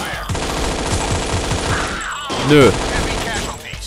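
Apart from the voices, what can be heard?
gunfire from the video game Infernal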